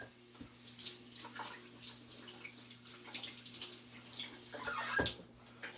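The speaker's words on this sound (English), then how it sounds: "I'm just going to wet my spoon." Tap water runs steadily into a kitchen sink to wet a spoon while preparing a gluten-free blueberry pecan cheese Danish, a close, continuous splashing stream with a brief louder gush near the end.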